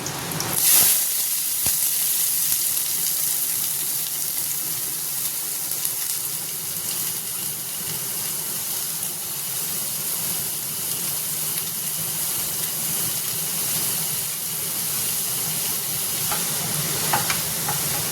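Onion frying with curry leaves in a large pan, giving a continuous close sizzle and crackle that runs steadily throughout with no talking.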